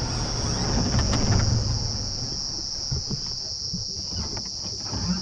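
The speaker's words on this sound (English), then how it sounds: "listen to all the cicadas" A dense, constant high-pitched buzzing of many cicadas at sunset on a safari drive, steady throughout, with faint low rustling and thumps underneath.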